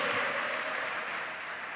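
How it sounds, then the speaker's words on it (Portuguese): Brief, soft applause from a congregation in a church service, a short wash of clapping heard at a distance. "Pode aplaudir a Jesus."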